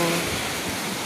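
Ocean waves wash on a beach in a steady, dense roar of broadband surf noise, loud and close with no clear breaks or speech over it.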